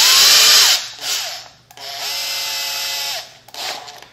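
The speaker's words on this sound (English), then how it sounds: "Now we're just using a small drill bit just to get the location down." Small electric drill whining close by in several bursts, pitch dipping as the bit bites, with short pauses between runs.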